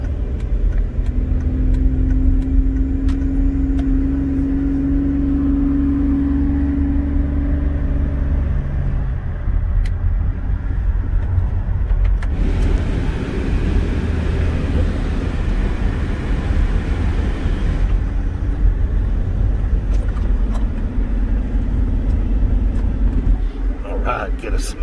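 Cabin of a 2006 Dodge Ram 1500 quad cab pickup with a 3.7 Magnum V6 on the move, steady low engine drone and road rumble throughout with a brief louder wash of noise midway, someone speaking over it.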